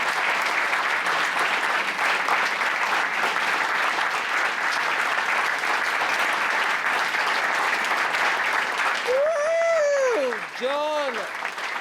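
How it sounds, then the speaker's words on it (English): Applause fills the hall at a boys soccer banquet, dense, loud and continuous for about nine seconds before a voice breaks in over the fading claps near the end. "So let's give John a huge round of applause."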